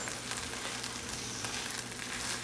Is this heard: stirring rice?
yes